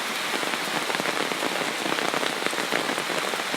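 Heavy rain pours down in Wang Nuea district, Lampang, driven by gusting wind while someone walks under an umbrella. A dense, steady hiss of drops hits surfaces close by without pause for the whole stretch.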